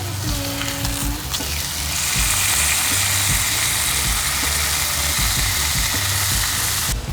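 Chicken pieces sizzle and fry steadily in a pan over lowered heat, a continuous loud crackling hiss with no talking.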